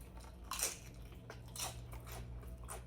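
Crispy crab rangoon nachos bitten into up close, two sharp crunches about a second apart followed by softer chewing.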